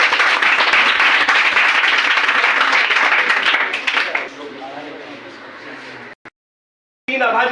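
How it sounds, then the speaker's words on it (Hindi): A classroom group gives students a loud round of applause during a maths question-and-answer session, with dense clapping for about four seconds that then thins and fades, followed by a brief silence and a voice. "चलिए इनके लिए एक जोरदार ताली।"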